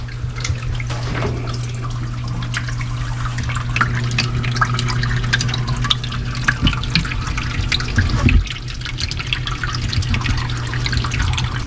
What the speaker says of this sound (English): sucks the water through all this media with a lot of bioactive material, and then up through that, down through the little waterfall